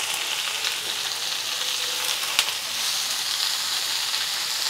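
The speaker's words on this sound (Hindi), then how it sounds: "गैस का फ्लेम मीडियम करके सब्जी को हम फ्राई करेंगे दो मिनट" Chopped cauliflower stalks frying in a pan over a medium flame give a steady, close, bright sizzle and hiss that runs throughout, with one brief clack of a stirring spoon partway through.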